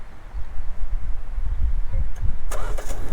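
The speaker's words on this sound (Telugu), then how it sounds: "ఒకసారి మీకు అన్లాక్ చేసి హోల్డ్ చేద్దాం, స్టార్ట్ అవుతుందో చూద్దాం" A 2024 Hyundai Creta's engine starts by remote key from a low, rumbling outdoor background, ending in a sudden, brief burst of sound as the motor fires.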